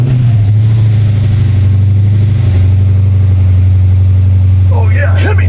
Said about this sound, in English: let me go start the car